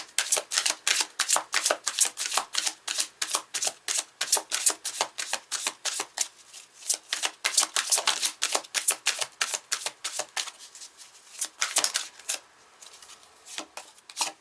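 Tarot cards are shuffled steadily, a long run of close, crisp riffling flutters that follow one another at a quick, even pace, with short pauses where cards are drawn.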